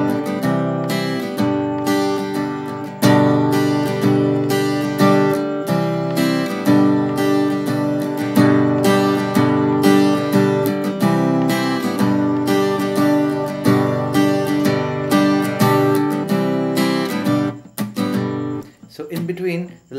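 Acoustic guitar strummed in a down-up pattern for a song, a steady rhythmic chord strum that softens and breaks into scratchy strokes near the end, played close and alone without talk.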